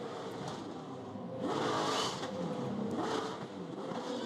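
Supercars touring cars in a championship race roar past, engines rising to a loud peak around the middle and again near the end, steady broadband race-car engine noise throughout with no talk.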